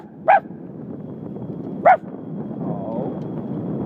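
Two sharp, fairly close barks from dogs at a dog yard in Toronto, spaced about a second and a half apart, over a low outdoor background.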